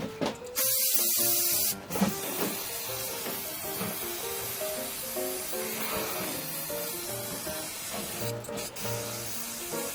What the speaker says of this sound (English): brake clean it, see what it looks like.